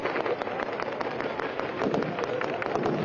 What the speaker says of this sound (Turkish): Şam'ın dört bir yanından silah sesleri bugün çatışma için değil, kutlama için yükseliyor.